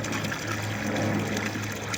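Water pumped from a borehole, a steady close rush of flowing, splashing water with a constant low hum beneath, no pauses.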